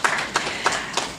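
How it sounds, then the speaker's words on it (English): A few scattered hand claps at a gala dinner and awards ceremony, about four separate sharp claps spaced irregularly, close and sparse. "Another round of applause for Mr."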